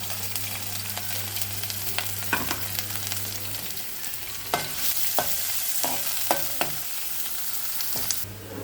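Onions frying in oil in a pan for a prawn and cucumber curry, a steady close sizzle with a low hum and occasional sharp knocks and scrapes of a stirring spoon.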